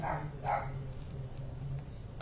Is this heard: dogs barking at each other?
yes